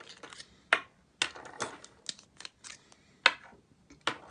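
Leonardo Momento Zero and Furore fountain pens are uncapped, a quiet series of sharp clicks and small plastic snaps spaced irregularly, close up with no talking.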